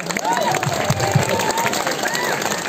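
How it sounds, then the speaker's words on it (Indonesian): An audience at a Balinese bondres comedy performance during a temple calonarang claps and cheers in a loud, continuous roar, while a voice talks over the crowd noise. "Tepuk tangan"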